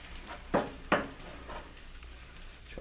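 Spinach dip ingredients being stirred in a hot pan: a spoon scrapes the pan in two sharp strokes, then several softer stirs follow, close and fairly quiet.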